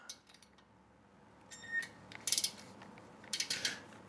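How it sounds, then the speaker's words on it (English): Metal fasteners being retightened with a wrench on a Fire Power LC2 jug rack, giving a few faint, scattered metallic clicks and ratcheting taps up close in a quiet room. "I'm just doing a quick retight of all fasteners"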